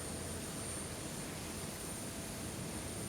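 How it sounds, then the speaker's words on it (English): An aircraft engine runs on the stand, a broad, steady roar with a thin high whine, constant and unbroken, with no voices. "we're taking the aircraft off stand, going to do a few engine runs"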